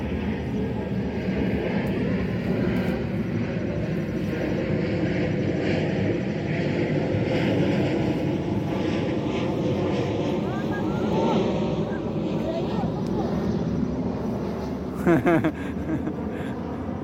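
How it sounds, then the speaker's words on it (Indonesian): An airplane passing overhead a crowded outdoor weekend market near a shooting range in Cimahi, a steady broad engine rumble lasting throughout under crowd noise and wind. "Itu pesawat, Dek."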